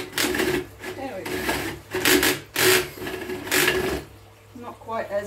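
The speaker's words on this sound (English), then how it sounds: "There are different types of hole saws that you can use." Hole saw grinding through wood while building an aquaponics system: loud, rasping bursts of cutting that stop and restart in an uneven rhythm, recorded close up.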